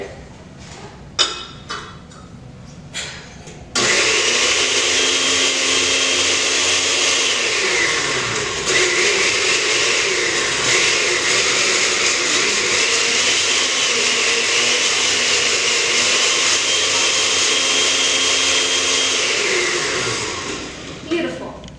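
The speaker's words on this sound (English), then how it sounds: "We decided to use a plate for the lid of our blender." A blender with a plate used as its lid whirs loudly and steadily for many seconds while blending soup, after a few taps and clatters, its motor drone holding nearly constant before winding down.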